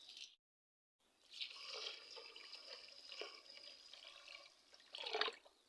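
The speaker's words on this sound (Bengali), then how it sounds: "আর পানিটা আমি একটু আজকে গরম করার সময় নেই, তার জন্য আমি একটু কাঁচা পানি দিয়ে দিলাম" Raw tap water pours into a cooking pot for khichdi in a home kitchen, a soft, steady splashing stream that runs for several seconds after a short silence, swelling near the end.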